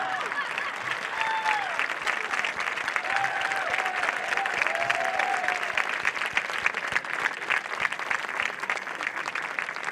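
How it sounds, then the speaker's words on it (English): A crowd at a Mexican Independence Day celebration in San Francisco applauds steadily and loudly for the full stretch, with whistles and cheers rising above the clapping. "Please give a big round of applause to our former mayor, Guillermo Café."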